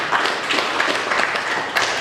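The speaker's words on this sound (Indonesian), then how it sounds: "Pertama saya pikir kita perlu berikan aplaus dulu sama Bang Adian" Audience applause for Bang Adian at a public talk about Lake Toba, a dense close clatter of clapping with small rhythmic swells.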